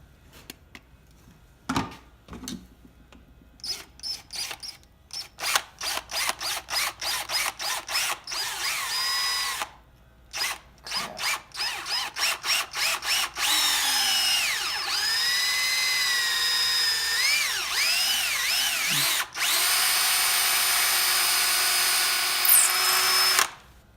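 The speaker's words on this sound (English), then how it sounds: "we're going to drill a hole about the size of this screw" A power drill drilling a hole runs in short bursts, then settles into longer continuous whirring, with brief pauses between runs.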